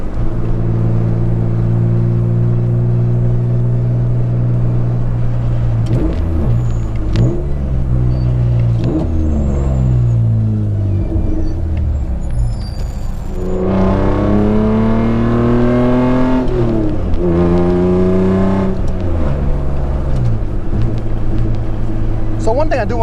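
A BMW E36 M3 race car engine drones steadily, then revs up through rising gears with a loud, rasping inline six-cylinder howl; a person talks briefly over it.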